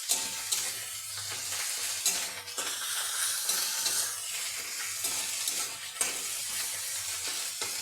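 Ginger paste frying and being stirred in a pan for khichuri, a steady close sizzle with scraping stir strokes and a few sharp clinks, no talking.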